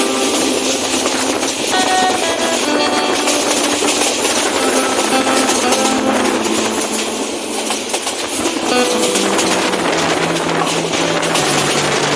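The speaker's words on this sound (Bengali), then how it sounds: "আজকের জয়ন্তিকা ট্রেনটি কিন্তু অতি দ্রুত যাচ্ছে, যা তুলনামূলক অনেক অনেক দ্রুত।" The Jayantika train runs fast through the Bhatera area of Sylhet. A loud, continuous roar with rhythmic clickety-clack of wheels on rails is heard close up throughout.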